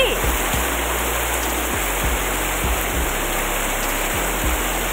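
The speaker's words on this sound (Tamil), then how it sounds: "மழை நல்லாவே வெளுத்து வாங்குது." Heavy evening rain pours steadily at Munnar, a dense continuous roar with low thumps and knocks underneath, loud and close throughout with no talking.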